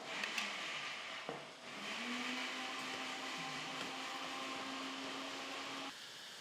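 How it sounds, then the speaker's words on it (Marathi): A kitchen mixer grinder whirs as it grinds soaked chickpeas for dhaba-style chole, a continuous motor whine with a brief dip and change in pitch near the start, steady and alone before cutting off. "या छोल्यामधले मी थोडेसे छोले मिक्सरमध्ये बारीक करून घेणार आहे"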